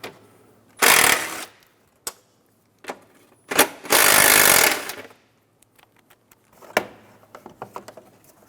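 A power tool loosening two 10mm bolts from the airbox cowl of a 2014-2019 Toyota Highlander, two loud whirring bursts close by, with sharp clicks and clanks of tools and parts between and after.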